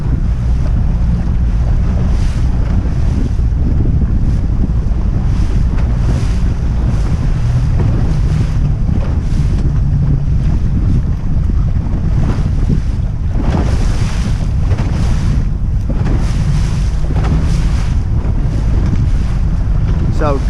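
Strong wind buffets a sailboat beating upwind in gusty conditions, a loud continuous roar with surging gusts over water and waves slapping the hull throughout.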